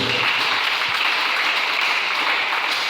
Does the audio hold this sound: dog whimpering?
no